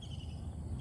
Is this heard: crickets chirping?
yes